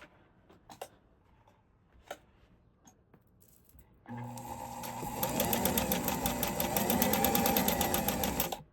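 A Fashion Mate 257 sewing machine stitches a small piece of fabric: a few scattered clicks and handling noises, then the motor starts and a fast, even mechanical chatter of the needle runs loud and steady for several seconds.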